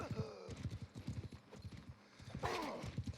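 Horse hooves clip-clop at a fast, steady gallop in Mount & Blade II: Bannerlord during a dueling match, the hoofbeats close and clear while someone talks over them and a brief whinny rises near the end.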